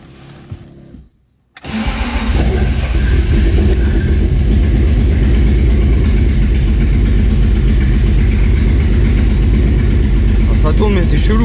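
Turbocharged BMW E36 engine cranking and catching after a jangle of keys, then running at a steady rough idle, close and loud with an uneven tone, a voice speaking over it.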